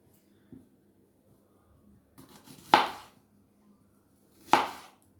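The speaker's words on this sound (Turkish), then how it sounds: "gördüğünüz gibi malzemeleri doğradık" Two sharp knife chops on a cutting board while chopping tarhana ingredients, spaced apart, with faint knocks and soft clatter between them in an otherwise quiet room.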